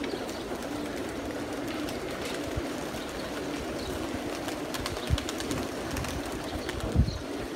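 Pigeons at the start of the season as a flock is brought out for a bath: a steady outdoor murmur of birds with soft cooing and occasional wing flaps, fairly close and continuous with no talk.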